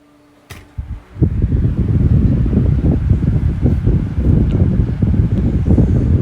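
A 2023 electric fan with deep-pitch blades runs at full power, a steady close broadband whoosh of rushing air starting after a brief click and staying loud throughout.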